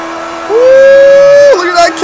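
A Nissan S13 drifting in the mobile game CarX Drift Racing gives a loud, steady engine whine that sweeps up in pitch, holds briefly, then drops off, lasting about two seconds.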